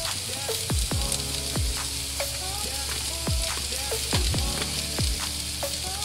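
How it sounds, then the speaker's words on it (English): Dinner food sizzles steadily in a hot frying pan, close up, with occasional clinks and scrapes as it is stirred. "The sizzle is real."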